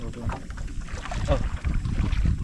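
A small boat's motor runs on an island trip, a steady low rumble mixed with wind and water noise, with voices talking over it throughout.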